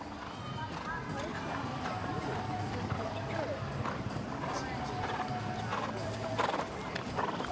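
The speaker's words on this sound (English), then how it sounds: "It's a really, really nice horse." An 11-year-old imported mare at an outdoor show-jumping grand prix clip-clops over ground after a jump, with steady close hoofbeats, a whinny and voices talking over them.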